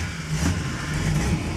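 1969 Plymouth GTX V8 engine just fired up and running with a low, rough rumble and a slight rev rise, heard close up and loud.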